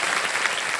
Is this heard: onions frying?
no